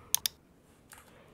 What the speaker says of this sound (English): So I'm typing this text here, adding a heading.